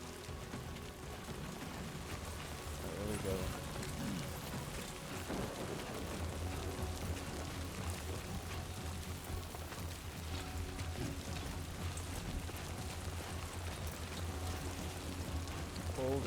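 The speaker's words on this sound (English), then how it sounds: "Great. Rain." Heavy rain in Death Stranding 2 pours as a constant hiss, with low thunder rumbling through it and a deeper drone settling in partway. Someone speaks briefly over the storm.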